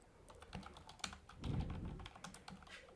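Rapid clicking keystrokes on a computer keyboard, quiet and close, come in an uneven burst of taps with a slightly heavier press near the middle.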